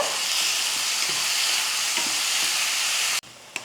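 Steady sizzling hiss of onions and tomatoes sautéing in a pan, loud and continuous, with faint stirring taps before it abruptly drops off.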